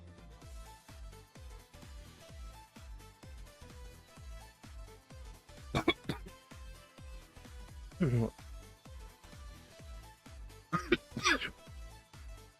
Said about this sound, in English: Pardon me if I'm coughing.